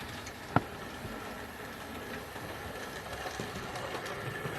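A Hornby model train locomotive runs on its track at a gentle pace, making a faint, steady mechanical whir and light rail rattle, with one sharp click near the start and no talk.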